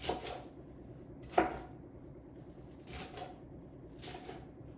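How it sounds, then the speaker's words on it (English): Four separate bursts of a knife chopping beet greens on a cutting board, spaced about a second apart, each a crisp slicing thud against a low room hum. "All I'm going to do is just cut them up, coarsely cut them up."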